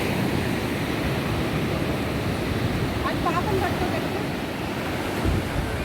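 Waves roll onto Palavakkam beach, a continuous broad surf roar mixed with wind buffeting the microphone, with a few faint distant voices underneath.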